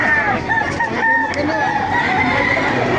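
Rooster crowing loudly and close at a market, a sustained drawn-out crow with clucking fowl in the background.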